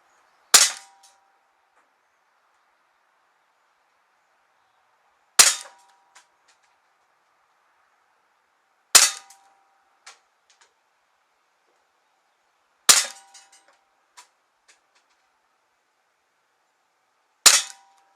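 A Umarex Walther CP99 Compact Recon BB pistol fires five sharp, loud single shots spaced several seconds apart, each a crisp snap with a faint ring after, and no voices between.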